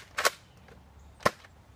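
Two sharp pops from a Nerf Retaliator blaster firing foam darts, about a second apart, close and crisp against a quiet background.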